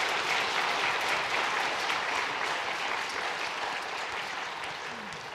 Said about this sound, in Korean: 여러분 격려와 환영의 박수 함께 하겠습니다